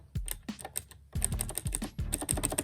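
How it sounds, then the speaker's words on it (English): Rapid mechanical key clicks from Cherry MX blue switches in a HORI Fighting Edge arcade stick, pressed in quick uneven bursts with a short pause, close and crisp with no talking. "these blue switches because they make a nice satisfying click"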